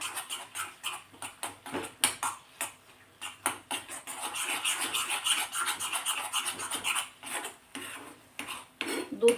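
Khoa roasts in a pan while being stirred, a close, busy scraping and rubbing of a spoon against the metal in quick, uneven strokes, fairly quiet with no voices.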